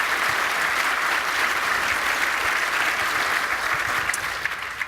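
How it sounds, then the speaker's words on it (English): Sustained, steady applause from a conference audience after a business panel discussion, loud and dense throughout and tapering slightly at the very end, with no talking over it. "I give my colleagues here a round of applause."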